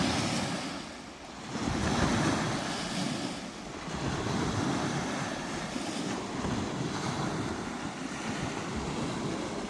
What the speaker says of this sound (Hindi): ये शोर सुन रहे हैं समंदर का